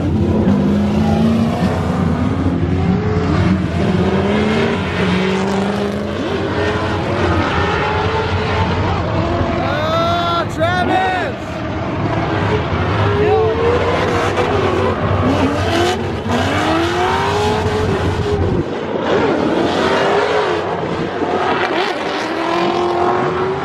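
A Formula Drift car makes a drift run, its engine revving and rising and falling in pitch against a continuous roar, with tire squeal mixed in, heard from a moderate distance for an extended stretch.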